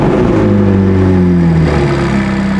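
An Abarth 124 Spider engine revs steadily and loud, its tone holding and then dropping slightly as it settles back toward idle, sustained and close throughout.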